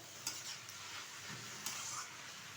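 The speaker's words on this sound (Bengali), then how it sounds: "ভালোভাবে একটু মিশিয়ে নিচ্ছি।" Jute leaves being stirred in a pan with prawn heads and spices, a soft continuous sizzle with light scraping of the spoon and a couple of brief utensil clinks, faint and steady with no talk.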